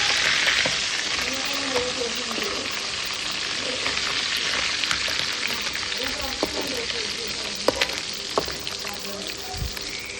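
Sardines frying in a pan with curry leaves, a dense continuous sizzle with light stirring scrapes and occasional pops, close and steady.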